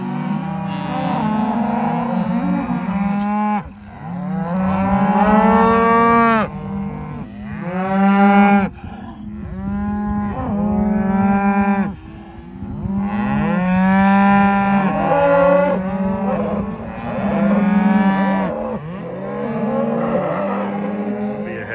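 A herd of cattle being moved along a road to a river pasture moos repeatedly and loudly, with long, overlapping bellows from several animals close by in near-continuous succession.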